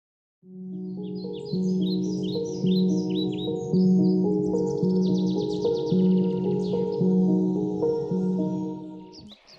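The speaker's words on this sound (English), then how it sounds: "Birds chirp amidst the trees" Small birds chirp and twitter among the trees of a morning forest in Virginia, their bright calls running continuously over a strong, steady low hum with a rhythmic pulse throughout.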